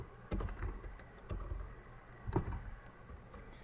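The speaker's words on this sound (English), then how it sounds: "Typing and hitting enter and typing pwd to verify we are in the root home folder." Computer keys clack in short irregular bursts of typing, with a few firmer taps like an enter key, fairly close and quiet against a low room hum.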